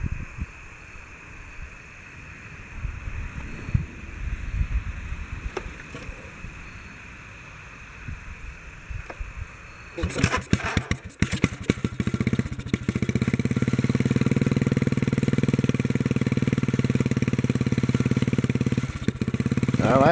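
A 1957 Bolens garden tractor engine cranks in a few sputtering bursts, then catches and settles into a steady, loud, close running drone. Before it starts there is quieter handling noise.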